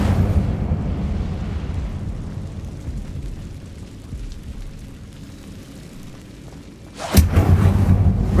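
Fire spell cast in Hogwarts Legacy: a sudden loud burst of flame near the end, standing out sharply from a low rumbling game backdrop.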